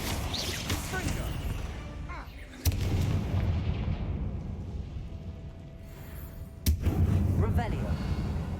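Two sharp, loud blasts land a few seconds apart, each a sudden broadband burst over steady game ambience and effects, from the Confringo fire-blasting curse in the Hogwarts Legacy video game.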